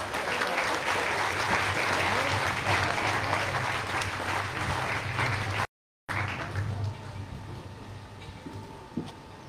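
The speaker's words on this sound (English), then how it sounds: "Let's give them one more round of applause." Audience applause fills a Hawaii National Guard Youth Challenge Academy commencement ceremony at Kalaeloa, with dense, sustained clapping that breaks off briefly and then fades to lighter, scattered claps.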